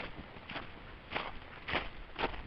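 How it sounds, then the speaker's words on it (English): Four or five crunching footsteps on icy snow in January, evenly paced and fairly faint, each with a brittle crackle. "the noise is the snow, not really snow, it's more ice"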